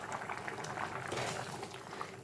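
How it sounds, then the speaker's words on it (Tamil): Drumstick masala bubbles in a covered pan, a close, continuous soft simmering crackle and gurgle with small pops, steady throughout. "இப்போ நல்லா கொதிச்சு வந்துட்டுருக்கு."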